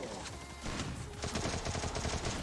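Rapid bursts of video game gunfire crackle in a dense, loud barrage through a multiplayer 4x4 match, with shots firing repeatedly and almost continuously across the whole stretch.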